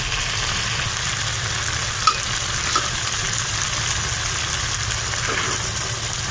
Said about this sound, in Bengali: এখন এর মধ্যে আমি শিম এবং আলু দিয়ে এটাকে ভালো করে কষিয়ে দেবো